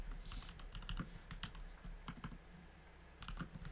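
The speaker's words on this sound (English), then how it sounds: "I hear typing." Typing on a computer keyboard comes through as quick, irregular clicks and key taps at low level, close by, with no voices.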